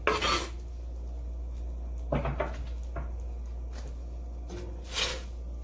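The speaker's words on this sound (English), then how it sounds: "We're going to mix that all together." Chopped fresh garden tomatoes and black beans being stirred together in a bowl for pasta, giving a few clinking scrapes of a utensil against the dish at the start and at intervals, then softer wet stirring between them, with no talk.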